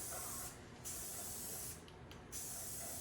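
Rust-Oleum 2X Ultra Cover spray paint hisses in steady bursts as a light dust coat goes onto the inside of a wheel rim, with short pauses between three passes while the wheel is spun.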